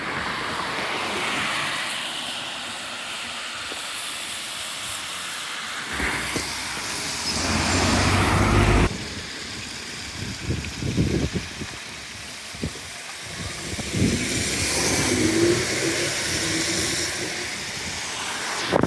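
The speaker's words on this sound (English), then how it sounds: "it's a 240 bus terminating here." A London 240 bus idles and pulls away at Mill Hill East Station, its engine a loud, broad rumble over passing traffic and rising whooshes of vehicles going by.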